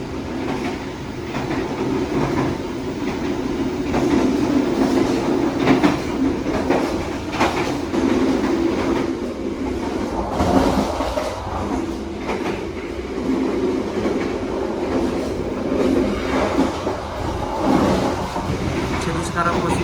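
Onboard the moving KA Mutiara Selatan train between Surabaya and Jogja, a constant rumble of wheels on rail with faint rhythmic clacking fills a busy carriage as passengers talk throughout.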